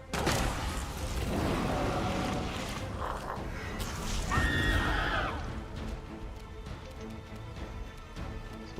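A horse whinnies in a video game, a clear mid-clip neigh rising over a dense, busy game soundscape of hooves, ambient noise and effects.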